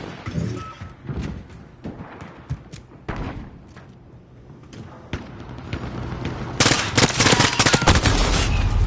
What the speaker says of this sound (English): The hip fire that this can do is just insane.